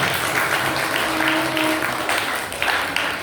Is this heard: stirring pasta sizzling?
no